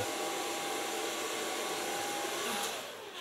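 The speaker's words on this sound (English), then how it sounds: "So far blow drying." A hair dryer blow-drying hair makes a constant, close whooshing whir that holds steady and then eases slightly near the end, with no talking.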